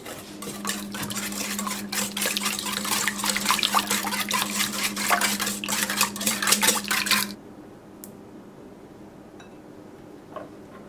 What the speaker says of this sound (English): whisk